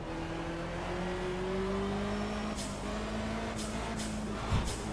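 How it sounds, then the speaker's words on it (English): Turbocharged race car engine in the Project CARS racing game, holding a steady drone with gently rising pitch, then a series of sharp turbo blow-off hisses and pops near the end, heard alone without voices. "That is the sound of a turbo."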